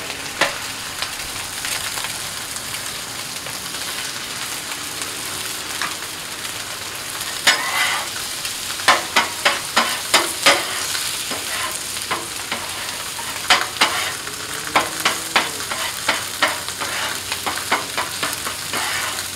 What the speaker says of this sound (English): We have 2 eggs that we're going to scramble here.